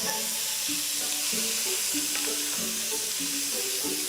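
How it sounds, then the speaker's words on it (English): Smoked bacon, roughly chopped onion and celery frying in a pan, a steady close sizzle and hiss with light stirring scrapes and no talk. "in the same pan, fry the bacon. I'm using smoked for extra flavour, along with roughly chopped onion and celery"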